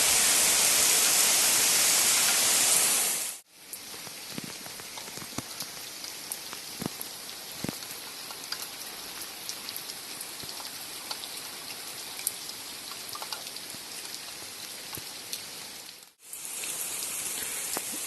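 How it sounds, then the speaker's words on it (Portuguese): Heavy summer rain pours steadily onto surfaces with a dense, even hiss that runs unbroken for most of the stretch, loud and close, with no voices over it. "Deu uma chuvada boa, hein?"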